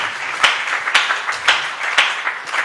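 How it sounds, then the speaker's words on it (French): A live audience at a Saturday question-and-answer session applauds loudly, a steady dense wash of clapping with several sharp accented claps standing out at a regular rhythm, no talk over it. "On applaudit bien fort, s'il vous plaît."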